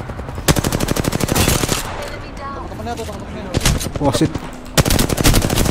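Rapid automatic gunfire from the battle royale shooter Apex Legends, with loud bursts opening and closing the stretch and quieter shots between, while players curse and talk over it.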